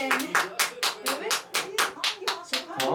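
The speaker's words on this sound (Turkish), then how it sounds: "Yani alkış, hani alkış, hani alkış." A small group claps together in a quick, steady rhythm at a surprise birthday celebration, with roughly a dozen close, sharp claps and voices mixed in among them.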